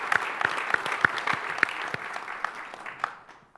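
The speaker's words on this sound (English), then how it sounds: "you deserve a round of applause" An audience at a formal diplomatic event breaks into applause, a brief burst of steady clapping with sharp individual hand claps standing out, fading toward the end.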